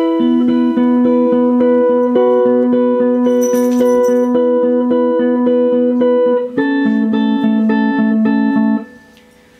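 A piano right-hand part plays repeated three-note chords from a song in a steady, bright pattern, shifting harmony partway through, then stopping near the end.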